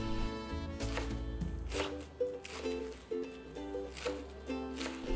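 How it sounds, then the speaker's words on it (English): A knife slices washed Vietnamese eggplant leaves into strips on a cutting board, a series of soft, regular chops under steady background music. "then slice into strips"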